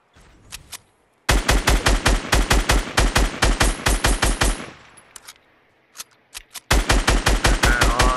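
Rapid automatic gunfire in the video game Fortnite crackles in loud sustained bursts, a brief gap of scattered single shots falling between longer strings of fire.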